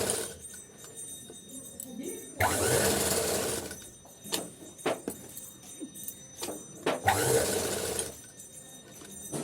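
A sewing machine stitches fabric for a garment neckline in two bursts of rapid mechanical whirring, with quieter clicks and handling sounds between them and no talking.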